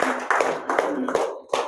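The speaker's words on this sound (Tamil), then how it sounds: "அதுக்கு பெரிய கைதட்டு கொடுங்க." Audience at a spiritual gathering applauds flood-relief contributors, a short burst of clapping mixed with a voice, close and moderately loud.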